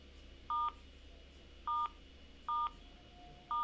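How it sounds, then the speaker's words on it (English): Four short telephone dialing tones, each a crisp two-tone beep, sound at uneven intervals over faint room hiss while a phone is dialed in the video game Your House. "Let's just dial your phone."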